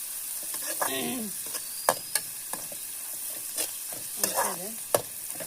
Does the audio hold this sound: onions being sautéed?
yes